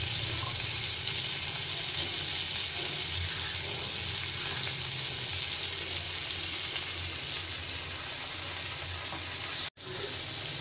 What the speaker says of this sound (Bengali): হালকা ভাজা হচ্ছে, এর মধ্যে আমি দেব রসুন, কালো জিরে আর কাঁচা লঙ্কা